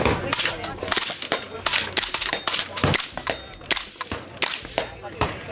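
A PTR 91 .308 rifle fires at an outdoor range during a trade-show range day, with a fast string of sharp, close shots at irregular intervals that ring against a noisy background.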